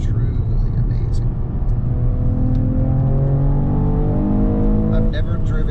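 A 2021 Mercedes E53 AMG Cabriolet accelerating in Sport Plus, its engine note rising steadily through the revs as a loud, continuous in-cabin drone with wind and road roar underneath.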